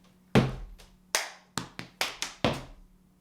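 A sharp sequence of percussive hits: a heavy thud, then several crisp claps and stomps in an uneven rhythm, close and loud.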